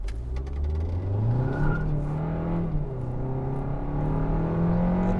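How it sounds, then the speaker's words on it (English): A 2021 Kia K5 GT-Line sedan accelerates hard from 0 to 60 in sport mode, its engine note climbing steadily and dipping at a gear shift before rising again, heard loud and close from inside the cabin. "We're gonna do a 0 to 60 in sport mode."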